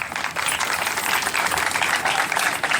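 Audience applause at the official opening ceremony of the 2018 SEFEDI festival, welcoming the festival's promoter: steady, loud, dense clapping from a crowd throughout.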